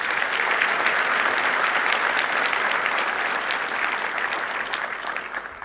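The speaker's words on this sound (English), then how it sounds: "Can we please give her another round of applause?" A seated audience applauds a speaker at a South African medical colleges ceremony, a dense, steady wash of many hands clapping that stays loud throughout and only slightly thins toward the end, with no voices over it.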